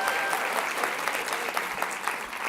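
An audience at a food and agriculture policy summit applauds a farmer, with dense, steady clapping from many hands filling the whole short stretch at an even level.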